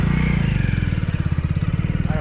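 Motorcycle engine started and revved, with a steady low throbbing idle that pulses rhythmically close by, while people talk over it.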